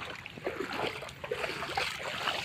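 A paddle dips and churns water beside a small sinking boat, soft irregular splashes and trickling close by over a couple of seconds, fairly faint.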